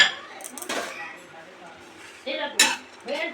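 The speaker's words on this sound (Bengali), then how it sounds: "মশলা করার জন্য আগে এই মশলাগুলো একটু গরম কড়ায় নেড়ে নেব।" Whole spices are stirred in a hot wok, with metal utensil scrapes and clinks against the pan in short, close bursts and quieter gaps between them.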